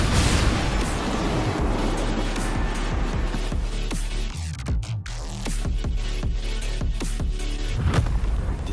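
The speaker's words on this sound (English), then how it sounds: "What caused the explosion?" Explosion in the Wuthering Waves video game, a dense, continuous roar with rumbling low end and scattered crackling bursts that fills the whole stretch at steady loudness, with no talk.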